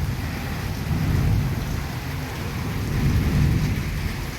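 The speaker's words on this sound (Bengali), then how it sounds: "এই পনেরো কুড়ি মিনিট ধরে মুষলধারে বৃষ্টি হচ্ছে" Torrential rain pours down in a loud, steady, unbroken roar, with low rumbling beneath the dense hiss of the downpour.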